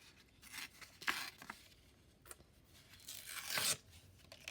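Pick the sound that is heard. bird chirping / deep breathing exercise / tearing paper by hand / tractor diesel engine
tearing paper by hand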